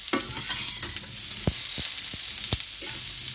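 Bottle gourd frying in a pan gives a steady, close sizzling hiss, broken by a few sharp scrapes and clinks as it is stirred.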